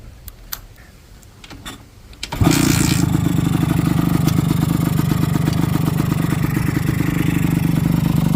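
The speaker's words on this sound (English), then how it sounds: "Here we are going to fire it up." A two-stroke motorcycle engine with a homemade exhaust kicks to life after a few quiet ticks and clicks, then settles into a loud, steady, close-up idle with a rapid, even putter.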